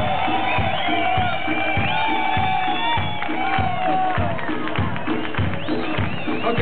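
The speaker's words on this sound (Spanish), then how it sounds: "aplauso, Sergio" A lively festival crowd at the Rekalde fiestas in Bilbao cheers and whoops over music with a steady beat, voices shouting together, loud and continuous throughout.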